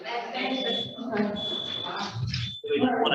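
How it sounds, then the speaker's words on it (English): A building fire alarm sounds in repeated high, steady electronic tones during a meeting, while people keep talking over it at close range. "It's a fire alarm."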